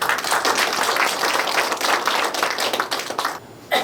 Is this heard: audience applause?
yes